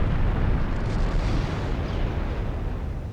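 A battleship's flash fire detonates in Ultimate Admiral Dreadnoughts, a loud, rumbling explosion roar that fills the whole moment and slowly tapers without a break.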